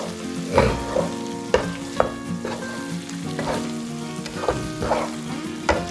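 Liver fry coated in masala sizzles steadily in a pan, with a few louder scraping knocks as it is stirred and turned, close and continuous with no talking.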